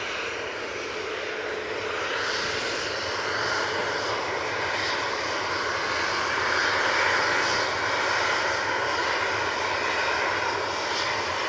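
Steady, loud jet engine roar from an Airbus A320neo departing Manchester Airport for Rhodes, swelling slightly midway and sustained for the whole stretch with no voices over it.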